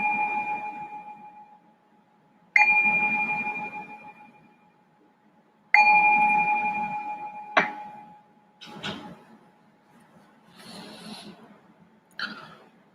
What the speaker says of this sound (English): I will ring the bell to signal the start of this meditation.